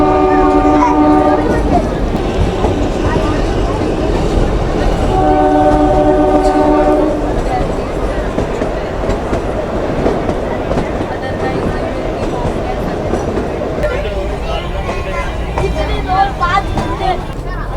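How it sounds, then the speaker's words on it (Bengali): Kalka–Shimla toy train arriving at Shimla station: two long horn blasts sound early on, then the carriages keep rolling with a steady rumble and clatter while voices murmur faintly underneath. "আমাদের ট্রেন ফাইনালি এসে গেছে সিমলা রেলওয়ে স্টেশনে"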